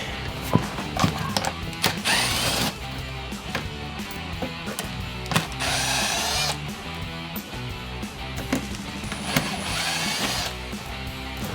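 A power driver or ratchet removes the three screws from the front bumper of a 2018–2023 Mustang GT, giving repeated loud whirring bursts with clicks and metallic rattles between them, close by and with no speech.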